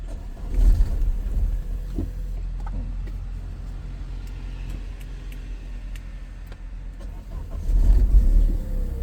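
A BMW E36 with the M43 engine cranks and struggles to start, a low rumbling churn that swells at the start and again near the end, with no clear catch.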